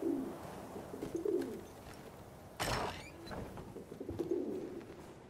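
Carrier pigeon cooing in Battlefield 1 war game, soft low warbling calls repeated at the start and end, broken by a sharp sliding, door-like burst in the middle, no voices.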